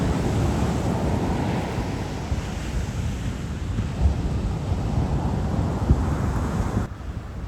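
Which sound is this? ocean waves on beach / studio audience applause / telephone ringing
ocean waves on beach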